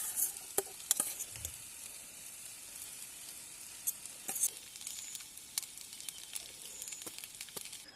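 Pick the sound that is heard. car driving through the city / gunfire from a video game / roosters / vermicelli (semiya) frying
vermicelli (semiya) frying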